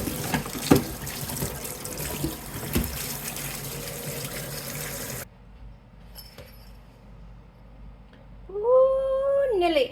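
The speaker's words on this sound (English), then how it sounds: "Put this cold water on them." Cold tap water gushes loudly over freshly boiled Ukrainian varenyky in a kitchen sink, a broad steady rush that cuts off abruptly midway, leaving quieter clinks and a rising tonal squeal near the end.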